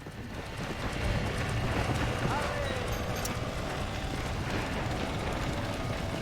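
A horse gallops in the video game Red Dead Redemption, its hooves drumming steadily at a fast rhythm under a wash of wind-like noise, moderately loud, while a person talks over it.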